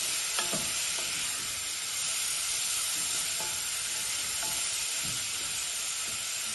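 Onions and peppers frying in a pan give a steady, dense sizzle, broken by occasional soft scrapes and stirs, with no talking.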